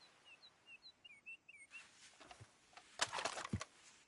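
Several thin, high bird chirps repeat near the start in a quiet outdoor scene from the video game Red Dead Redemption 2. A few louder clinks and rustles follow, fairly close.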